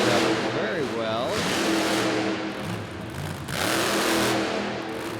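A monster truck engine revs loudly as the truck rolls into a slow wheelie in an arena, its roar rising and falling under a commentator's voice and crowd noise.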